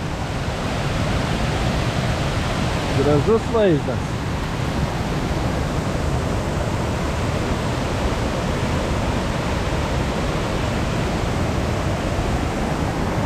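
A steady, full roar of rushing water from a waterfall fills the whole clip, heard from a small footbridge over it, with a voice speaking briefly near the start.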